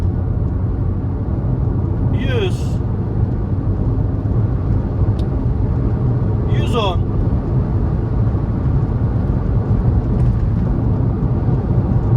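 A Volkswagen Polo 1.4 engine droning steadily under full-throttle acceleration with the air conditioning on, a constant loud cabin hum with brief chirping sounds over it.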